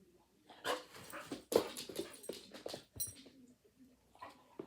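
A female puppy makes soft, close whimpers and low growling noises in irregular short bursts at fairly low volume, with no talk.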